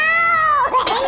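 A person's voice imitates a cat's meow: one drawn-out, nasal meow that slides downward, then a shorter wavering cry, close and loud with no other sound around it.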